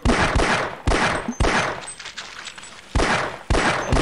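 Gunfire from a gun in Half-Life 1, loud close bursts of shots in repeated volleys with brief pauses between them, no talk over it.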